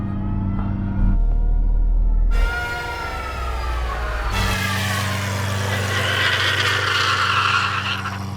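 A supercar on a runway drag strip revs hard, then breaks into a roaring burnout to warm its tyres, with a loud, sustained engine howl layered over broad tyre-spinning hiss.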